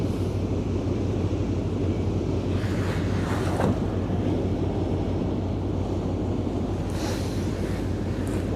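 A steady rush of water breaking off a ship's bow on the Westerschelde, mixed with heavy wind noise, holds at an even level with occasional swells of spray and no talking.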